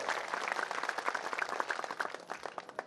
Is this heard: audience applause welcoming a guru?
yes